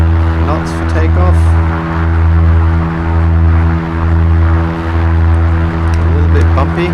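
A simulated Piper Archer PA28 single propeller engine drones loud and close during the takeoff roll, a steady powerful hum with a slight pulsing swell while accelerating toward about 60 knots.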